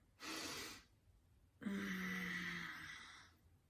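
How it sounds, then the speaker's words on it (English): A person takes two audible breaths close to the microphone, a quick airy inhale followed by a longer, slightly voiced breath or sigh, with no talking. "Let me breathe 1 second."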